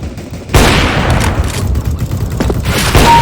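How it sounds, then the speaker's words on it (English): Gunfire in Counter-Strike: Global Offensive during a team deathmatch on an Italy map: a loud burst of rapid automatic shots starts half a second in and keeps rattling densely and close to the end. "Very good shooting."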